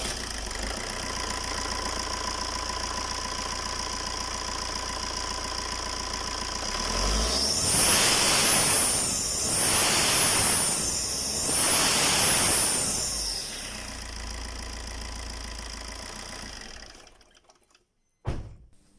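A car engine with a turbo leaking oil idles steadily, then revs three times to around 1500-2000 RPM in smooth swells before settling and cutting off near the end.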